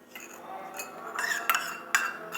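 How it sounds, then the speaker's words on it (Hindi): A spoon stirs honey into warm juice in a cup. Close, light clinks and scrapes of metal against the vessel come in a few quick strokes, with no talk. "रस के साथ में शहद मिलाते हैं"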